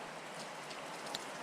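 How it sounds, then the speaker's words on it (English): Rain falls steadily outdoors on a farm in Jamaica, a soft continuous patter of drops hitting surfaces, faint and even with no voices. "So it's still raining outside."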